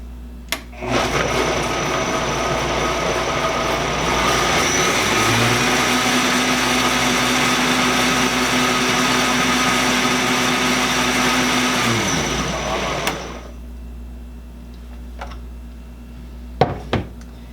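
A kitchen blender whirs loudly and steadily for about twelve seconds as it purees raspberries and banana into a smoothie, its pitch shifting midway, then winds down to quiet with a few clinks.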